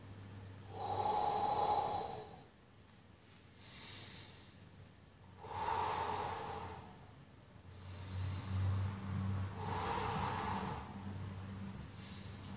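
Slow, deep breathing during a core-stability exercise: about four long, airy breaths in and out at an even pace, close and fairly loud, with no talking.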